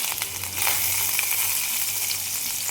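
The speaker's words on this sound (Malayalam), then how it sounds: "ആവശ്യത്തിന് ഉപ്പും ചേർത്ത് നന്നായി വഴറ്റിയെടുക്കാം" Onion, garlic, ginger and curry leaves sautéing in a hot pan for banana blossom curry make a loud, close, continuous sizzle with occasional stirring scrapes and no talk.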